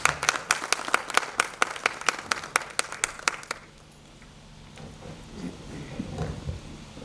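An audience claps in welcome for a speaker at a dance festival talk in Khajuraho, with sharp, fairly near claps in a steady rhythm for about three and a half seconds before fading into quiet room tone.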